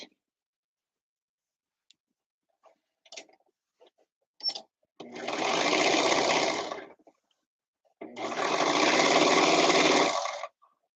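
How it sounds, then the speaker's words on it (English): A serger overlocks the cuffs of pant legs in a home sewing studio, running in two steady, close bursts of about two seconds each, separated by a pause, with light clicks and handling noises before them. "Surging the cuffs again, the pant legs."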